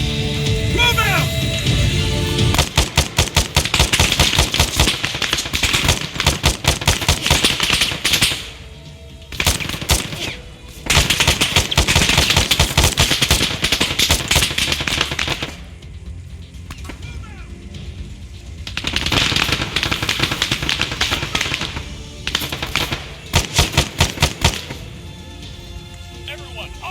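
Gunfire from the ArmA 3 military shooter: dense volleys of rapid machine-gun bursts broken by short pauses, with shouted radio commands mixed in.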